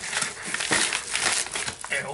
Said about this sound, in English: Take the scissors and cut